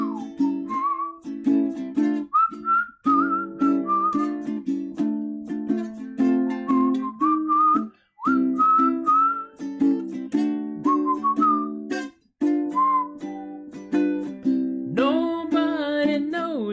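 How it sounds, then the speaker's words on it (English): Someone whistles a melody over steady instrumental accompaniment, the tune rising and falling in clear, sustained notes. "Whistle."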